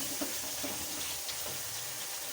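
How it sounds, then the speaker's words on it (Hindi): Water poured into haleem masala frying in a pan, a steady broadband gush and sizzle with a few brief splashes, close and fairly even throughout. "इस पर थोड़ा सा पानी ऐड कर लें ताकि ये मसाला जो है हमारा वो जलने ना पाए"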